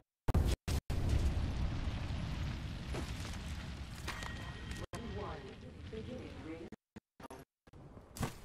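A grenade detonating in the battle royale shooter Apex Legends, a loud close boom with rumbling debris amid gunfire-like game noise, broken by brief dropouts.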